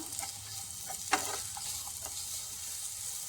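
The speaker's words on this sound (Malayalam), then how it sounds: "നെയ്യിലിട്ട് നന്നായിട്ടൊന്ന് വഴറ്റിയെടുക്കാം" Dates sautéing in ghee sizzle with a steady soft hiss, broken by a few close clicks and scrapes as they are stirred in the pan.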